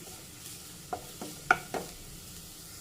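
Grated carrot goes into onions sautéing in a pan, under a faint steady sizzle with four distinct spatula taps and scrapes, the third the loudest, and no speech.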